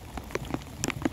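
Rain falling on an outing to fish for crappie, heard as scattered crisp drops and pattering over a soft steady hiss, close and fairly loud, with no talking.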